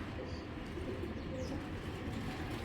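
Pigeons at a bustling pigeon market, including foreign breeds, coo in a steady, overlapping murmur. The continuous low cooing sits a little distant, with a few faint chirps above it.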